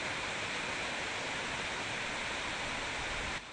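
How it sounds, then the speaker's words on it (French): The natural Zadeplu waterfall cascades in a lush setting with a steady, dense roar of falling water that holds at an even level, then drops off abruptly at the very end. "De magnifiques chutes d'eau au cœur d'un cadre pittoresque"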